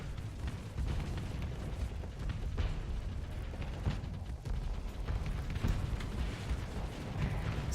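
Heavy explosions from Reaper torpedoes striking in a Starsector space battle, a dense continuous rumble of overlapping booms and bursts lasting several seconds with no voices.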